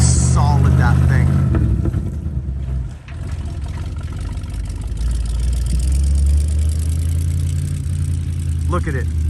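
An old Ford dump truck engine idles with a low, steady rumble up close, and a voice cuts in briefly near the start.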